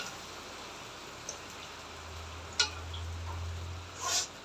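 Oil sizzles steadily in a frying pan as sliced potatoes go in for a Bangladeshi aloo chochchori with molia fish, a soft continuous hiss marked by a few sharp pops and spatters, heard close up with no talking.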